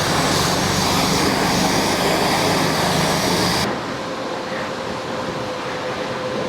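A self-service bike wash sprays a loud, steady, hissing rinse over a BMW G310GS motorcycle. The spray cuts off abruptly partway through, leaving a lower background hum.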